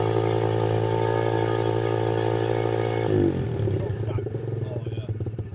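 Chinese 125cc pit bike with a new carburetor runs close by. A steady, droning engine note holds for about three seconds, then shifts into a rougher, pulsing idle.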